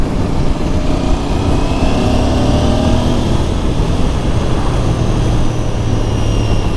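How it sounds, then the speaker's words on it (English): A Royal Enfield Bear 650 motorcycle accelerates hard as the throttle is twisted, a loud continuous engine drone and rising rumble buffeted by heavy wind noise, with no talking. "You twist that throttle with anger, I tell you what, it does give it a good old shove."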